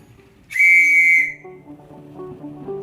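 A single steady high-pitched beep lasting under a second, one long Morse dash for the letter T, sounds over faint background music.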